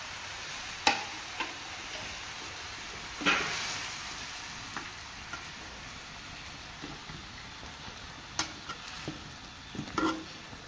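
Chicken pieces for Afghani chicken sizzle in a hot pan with a steady, crackling hiss. Scattered clicks and scrapes from stirring break through at intervals.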